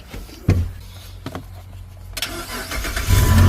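A car engine cranking and then starting after repair work on a no-crank fault: short starter bursts and clunks, a pause, then the engine catches and settles into a loud, close running idle.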